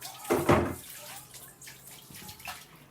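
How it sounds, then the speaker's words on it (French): Running tap water rinsing a container that held lemon juice in a home kitchen, a brief splashing gush followed by softer intermittent trickling, fairly quiet and close. "je vais rincer puisque j'avais mis du jus de citron dedans"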